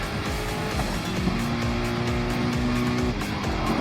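A Mercedes race car in a Nurburgring 24h racing video game runs off track, steady engine hum with a sustained tire squeal tone lasting a couple of seconds, fairly close and without talk.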